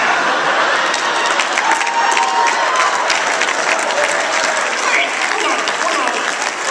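Studio audience applause and cheering from a skit, a dense, steady wash of clapping with scattered whoops held at even loudness throughout.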